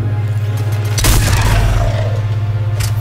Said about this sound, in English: This is literally a hand cannon.